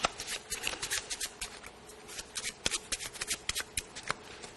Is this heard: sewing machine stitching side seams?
no